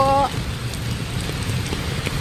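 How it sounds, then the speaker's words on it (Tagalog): Rain falling outdoors on a flooded street, a steady soft hiss of drops on wet surfaces and standing water, moderately quiet and continuous after a brief tonal sound at the start. "Ang sarap magtampisaw sa ulan."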